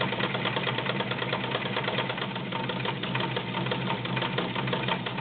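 A Kenmore model 1247 sewing machine runs a zigzag rick-rack stitch, its needle chattering in a fast, steady mechanical rhythm beneath a continuous motor whir, close and constant throughout.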